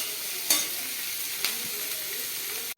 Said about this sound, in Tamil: வெங்காயம் நல்லா வதங்கிட்டுருக்கு நல்லா வதங்கிடுது